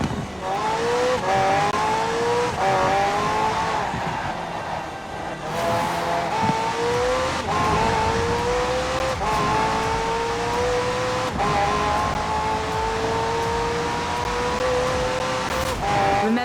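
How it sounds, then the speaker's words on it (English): A McLaren hybrid supercar with a twin-turbo V8 and electric motor, driven in Forza Horizon 4, revs hard through repeated gear shifts, its engine note climbing and dropping again and again, loud and close with no talk. "The car's blistering performance is delivered by a twin-turbo V8, supplemented by a McLaren ECU electric motor and instant power assist system."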